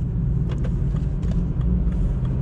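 A BMW car with its engine in sport mode, heard as a steady low rumble from inside the cabin with continuous road noise and a few faint clicks.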